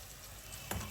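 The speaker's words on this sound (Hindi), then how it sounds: "ऑयल जब गर्म हो जाए 3 मीडियम साइज़ के प्याज ऐड करेंगे" Three medium onions frying in half a cup of hot oil, a steady soft sizzle close by, with a brief louder stirring scrape near the end.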